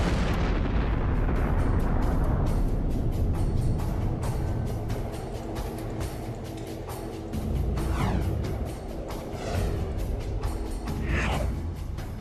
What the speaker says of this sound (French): les résidus se seraient évaporés également dans une explosion colossale